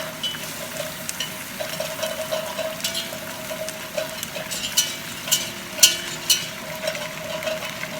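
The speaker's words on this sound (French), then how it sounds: "Je mélange au fouet." A whisk working through poultry stew base with white wine and water in a pot, giving repeated metallic clicks and scrapes in an uneven rhythm over a low steady bubbling, close up and without talk.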